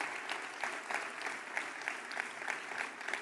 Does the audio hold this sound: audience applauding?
yes